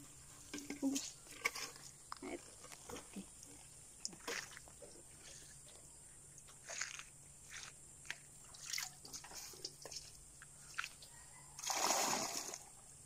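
Water is drawn from a well for bathing, with scattered splashes, drips and sloshes, then a louder pour near the end, all fairly quiet.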